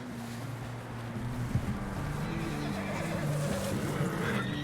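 A horse neighing in the snowy open world of the game Red Dead Redemption 2, a drawn-out whinny over steady wind and muffled movement, moderately loud and near.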